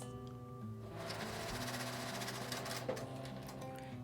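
Sewing machine stitching a fabric divider into a small cosmetic bag, a quiet, steady fast-running hum with rapid needle ticking after a brief start, continuous to the end.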